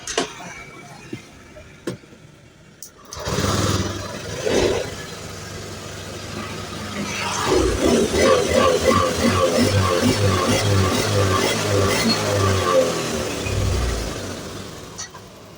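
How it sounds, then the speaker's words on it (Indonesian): A Honda Beat FI scooter with a badly sputtering engine is started after a few clicks and a brief burst, then idles and revs unevenly for several seconds at close range before settling. "Dan kita coba hidupkan motornya"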